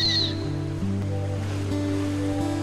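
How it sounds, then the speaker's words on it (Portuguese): Ocean waves wash onto a beach in a soft, continuous surge beneath sustained, droning musical tones, with no speech. "Ouça o marulhar das ondas."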